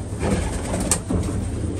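Soft, low cooing from pet birds nearby, a couple of gentle throaty calls over a steady background hum.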